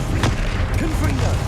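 Bombarda blasting spell in Hogwarts Legacy, a deep booming blast under dense combat noise with rumbling low end and a few sharper impacts, overlapped by a voice.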